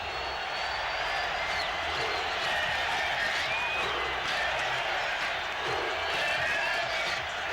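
Stadium crowd roaring steadily after a Raiders touchdown against the Chiefs in a 1996 NFL game, a dense, distant wall of cheering that holds without break.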